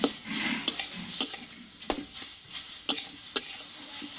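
Ground chana dal paste with sugar stirred in a pan, a soft frying sizzle broken by sharp, irregular scrapes and clinks of a spoon against the pan, close and loud.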